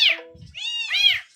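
A cat gives a short series of close, loud meows, a quick opening cry followed by a longer drawn-out call, heard alone without talk.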